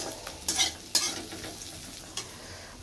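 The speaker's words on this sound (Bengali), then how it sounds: "এখানে করলা ভাজা হচ্ছে" Bitter gourd (karela) fries in a pan with a low sizzle, broken by a few sharp scrapes and clinks of a utensil stirring against the metal.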